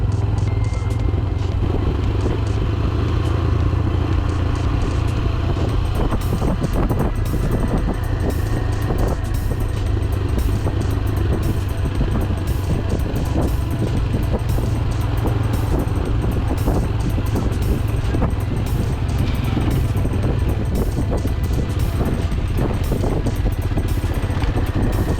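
Motorbike riding along a road toward a dam in Chakwal, a steady engine drone with heavy wind buffeting the microphone, continuous and close for the whole stretch with no talk.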